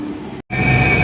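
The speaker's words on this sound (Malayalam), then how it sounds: "ഒരു വണ്ടി വരുന്നുണ്ട്, മഞ്ഞ ലൈൻ." Delhi Metro Yellow Line train pulling into an underground station, a loud steady rumble of wheels and motors that cuts out for a split second before resuming, close and enveloping.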